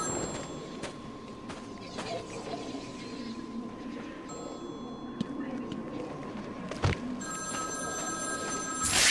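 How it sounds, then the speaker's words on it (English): A telephone rings in the Batman Arkham City video game, its bell trilling repeatedly over a low city ambience with faint background voices, two louder ring bursts standing out near the middle and end. "Zaz calling for Batman"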